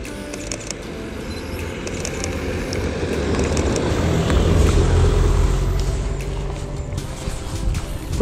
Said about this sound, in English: There's a car coming in.